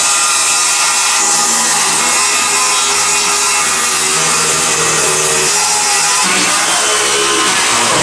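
A power saw cuts out a section of an old mansion's kitchen ceiling along a line at a joist, a loud, steady, unbroken cutting roar that runs close up for the whole stretch without pause.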